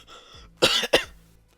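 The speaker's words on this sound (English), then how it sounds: "I need to clear my throat real quick." One person clears their throat with two sharp, close rasping bursts in quick succession, close to a cough.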